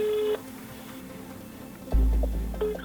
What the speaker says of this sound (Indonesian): Ini aku telepon dulu.